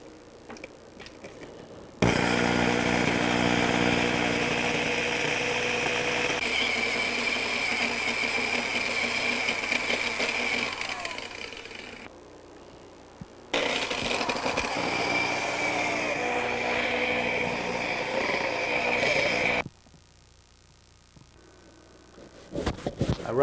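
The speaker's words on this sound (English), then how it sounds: "Back to my buffing." Power buffing of a sprayed guitar finish with a motorised buffer: a steady mechanical whir runs loud for about ten seconds, stops, then resumes for several more seconds before fading to quiet.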